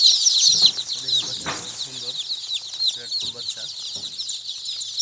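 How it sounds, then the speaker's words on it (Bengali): Native desi chicken chicks chirp in a dense, high, continuous chorus of peeps close by, with occasional clucks and wing flutters, while someone talks over them. "দেখেন কত সুন্দর দেশি মুরগির বাচ্চা"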